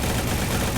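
Gunfire in a Roblox prison game, a dense burst of rapid shots filling a brief, loud moment with no gaps between them.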